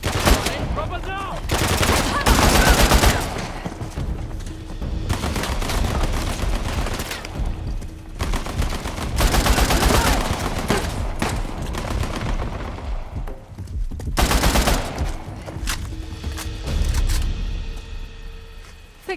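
Sustained gunfire in Uncharted: The Lost Legacy: repeated loud bursts of automatic and single shots over about nineteen seconds, separated by short lulls, with faint voices between volleys.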